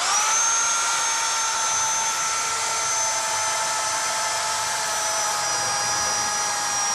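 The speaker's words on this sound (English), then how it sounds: "And what I'll do is drill right in place." A high-pitched power drill whines steadily and loudly, its pitch drifting slightly as it bores continuously into a wall for several seconds.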